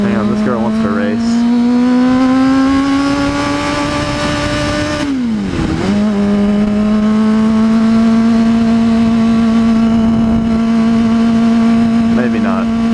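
A Honda CBR600RR sport motorcycle engine running loud and close with a steady buzzing drone, briefly dropping and surging back midway as the throttle is blipped, then holding a constant pitch.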